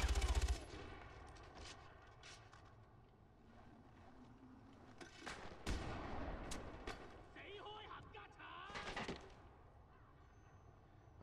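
Gunfire rings out in the jungle combat of the Far Cry 4 video game, with sniper rifle shots among sharp cracks and bursts scattered through the clip, while a person talks over it.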